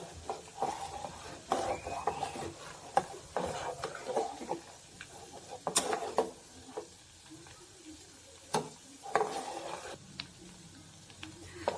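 Homemade ghee made from collected milk cream simmers in a pan, giving a quiet, uneven crackle and fizz broken by occasional scrapes and stirring knocks of a spoon against the metal.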